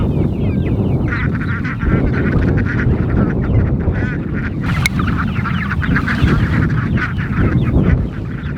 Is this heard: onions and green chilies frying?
no